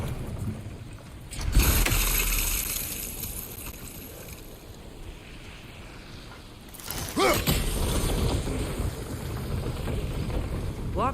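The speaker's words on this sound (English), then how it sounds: "If you freeze the geyser, the pressure will turn the wheel." A heavy wheel grinding round under geyser pressure in God of War Ragnarok, creaking mechanical turning over a low rumble, with two loud bursts of rushing noise breaking in, one early and one late.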